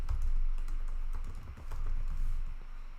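Rapid typing on a computer keyboard, close up, with a steady stream of soft key clicks and taps throughout, alone and moderately loud.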